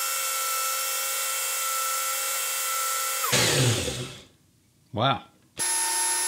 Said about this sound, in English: While I'm at it, I'm going to sharpen my knife. It too is the Ken Onion Edition.